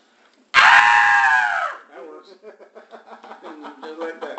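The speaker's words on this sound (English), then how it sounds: "I hear female scream" In a video game, a loud, close female scream holds for about a second, then breaks into a run of choppy, fading vocal sounds.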